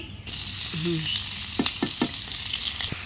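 Onion mixture tipped into a hot pan of frying chicken, hissing in a steady sizzle with a few sharp scraping clatters of stirring.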